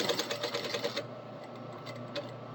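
A sewing machine back stitching the collar of an Edwardian shirt runs in a quick, even mechanical whir for about a second, then falls to a quieter hum with a couple of faint ticks.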